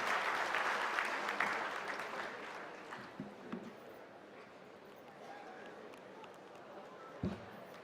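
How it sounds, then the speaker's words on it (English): An audience at a national conference of chartered accountancy students applauds, the clapping loud at first, then thinning into scattered claps with some background voices. "big round of applause to Anish, Karthi and Krupa for the great job that they have done"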